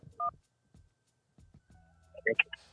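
A phone keypad tone sounds after a voicemail prompt, a few short electronic beeps near the end following quiet clicks and brief muffled talk.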